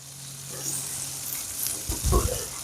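A steak sears in butter in a cast iron pan with a loud, constant frying hiss, then a heavier thump and burst of sizzle as the meat is flipped near the end.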